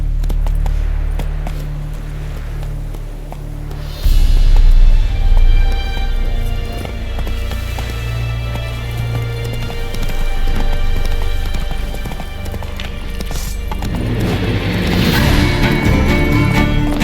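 Roach the horse gallops in The Witcher 3: Wild Hunt, its steady, rhythmic hoofbeats close and prominent, layered over a continuous game soundscape.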